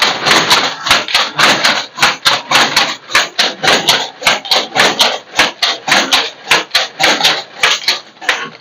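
Handloom machine weaving a cotton gamchha, running with a steady fast train of loud, sharp wooden clacks repeating about three times per second over a continuous mechanical rattle, close by.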